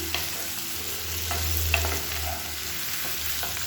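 Potatoes mixed with spices stirring and frying in hot oil in a pan, a steady sizzle with scattered spoon scrapes and taps, close and moderately loud, no voices.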